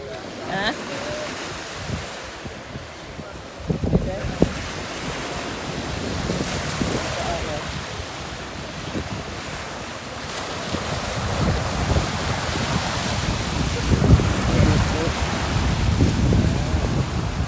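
Ocean surf and gusty wind at Bob Marley Beach in St Andrew, Jamaica: a continuous wash of breaking waves with wind buffeting the microphone, and faint voices now and then.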